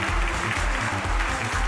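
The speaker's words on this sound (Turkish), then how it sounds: "Cahit Kaya geliyor alkışlarla sahneye" An audience at a golf event awards ceremony applauds loudly and continuously as a guest walks on stage, a dense near wash of clapping hands.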